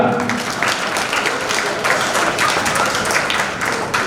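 Loud, sustained applause from a crowd welcoming a guest at a Jangid Brahmin community Vishwakarma Jayanti gathering, dense clapping continuing throughout.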